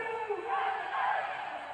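A large crowd at a cricket stadium during an India versus Oman match, mostly Indian supporters, produces a continuous distant roar of cheering and shouting with no clear breaks.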